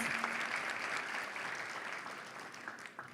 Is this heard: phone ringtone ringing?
no